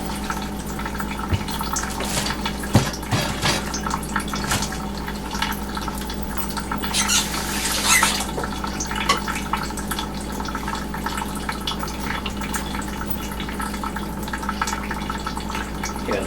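Water is poured from a height onto leached California buckeye nut meal, making a steady close splashing and trickling stream with small drips and gurgles throughout.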